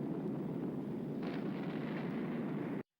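A crash and explosion from a Blake's 7 episode, a loud, dense, rumbling blast with a brief crackle partway through that holds steady for nearly three seconds and then cuts off abruptly to silence.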